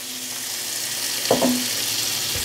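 Onions dropped into melted butter in a pan hit with a sudden clatter and burst of sizzle, then settle into a steady fry over a constant background hiss.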